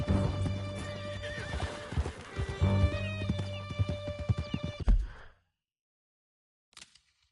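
Horses gallop hard while being ridden through a canyon in Red Dead Redemption 2, their hooves pounding quickly and loudly under a game score, with a whinny before the sound cuts out and a brief sound returns at the end.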